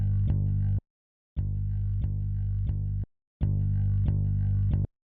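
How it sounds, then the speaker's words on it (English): Music track run through a distortion effect plugin, three loud sustained sections with gritty harmonic buzz and a few accented hits, separated by short silent gaps. "I added some cool distortion to that. I love this plugin right here."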